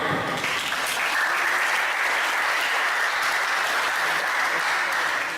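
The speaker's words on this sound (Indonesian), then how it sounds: "Beri tepuk tangan." Audience applause during a Buddhist Dhamma sharing talk at a vihara in Pekanbaru, a continuous wash of clapping from a gathered crowd that holds steady and fairly loud for several seconds.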